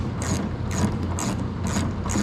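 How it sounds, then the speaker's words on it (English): A hand ratchet loosens the front bolts on a Dodge Challenger during removal of the seats, fuel tank and dash, giving loud, close bursts of rapid clicking that repeat in a steady back-and-forth rhythm. "Taking these 4 front bolts out."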